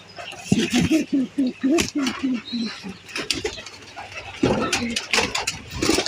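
Pigeons in a nest coo repeatedly in a rhythmic series of soft, close calls, with other bird sounds and brief noises breaking in toward the end.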